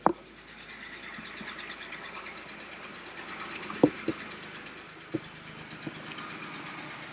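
A car engine idles steadily after an oil change, a low continuous drone with a few sharp clicks or knocks, heard close and alone without talk.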